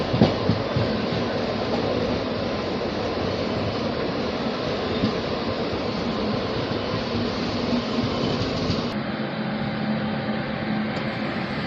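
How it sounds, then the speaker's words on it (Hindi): Goods train hauling petrol tanker wagons rolls past on a line between Gandhidham and Palanpur, a steady, loud, continuous rumble and rattle of wagons close by that drops away near the end. "इस लाइन पर गुड्स ट्रेन, ये है पेट्रोल के टैंकर"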